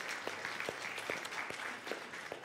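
Faint, distant clapping from a church congregation at a Sunday service, a soft steady patter of hands with a few sharper claps standing out.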